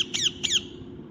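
Parrots squawk twice in quick succession, the sharp, bright calls standing out clearly over a low, steady background rumble.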